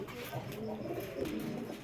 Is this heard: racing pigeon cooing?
yes